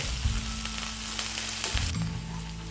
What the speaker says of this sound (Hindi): तो यहाँ पर मिर्च को मुझे भूनते हुए लगभग 40-50 सेकंड्स हो चुके हैं।